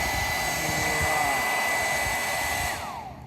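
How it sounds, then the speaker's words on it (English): A blow dryer runs close by with a steady, loud whirring hiss, then switches off near the end, its motor pitch sliding down as it winds down. "hopefully everybody can hear me over that blow dryer"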